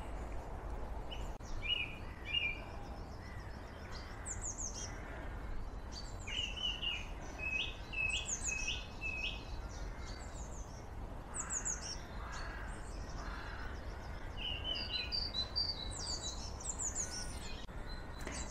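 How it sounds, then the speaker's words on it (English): Birds call in woodland near Conygar Tower on Exmoor, scattered chirps and short calls repeating over a soft constant roar of distant traffic. "apart from the birds, we can hear the roar of traffic on its way to Minehead and beyond."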